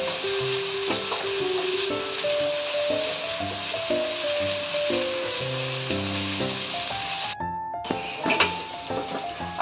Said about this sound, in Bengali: আলুগুলো আমি ভেজে নিচ্ছি।